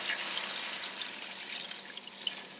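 Water poured into a cooking pot holding chicken and pork for pipian, a steady hissing, splashing stream that runs throughout at moderate loudness, with no talking.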